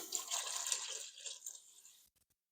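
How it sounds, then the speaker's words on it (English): Water poured into a pressure cooker holding black beans, a brief splashing, rushing pour that fades out after about two seconds, heard alone. "And then we are going to add water."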